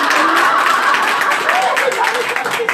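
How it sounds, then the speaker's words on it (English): An audience claps together at a director's debut ceremony, a dense, sustained patter of applause with voices and light laughter mixed in throughout. "Everybody clap."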